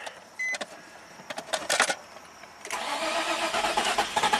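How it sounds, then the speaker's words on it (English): A Nissan car that had an immobilizer no-start fault is started: a few soft clicks and short electrical whirs of the starter precede the engine catching and settling into a steady, close idle. "let's start the car"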